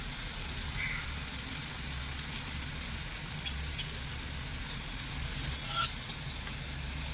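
Small drops of palm-fruit boondi batter fry in hot oil with a steady, dense sizzle throughout, close and even, with a few brighter crackles near the end and no voices.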